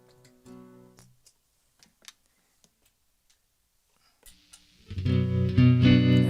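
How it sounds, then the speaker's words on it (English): An electric guitar at a virtual folk festival stream: a few faint ticks and clicks sound over near-silence, then the guitar kicks in loudly at the end with sustained, slightly distorted chords. "that's the sound of my electric guitar kicking"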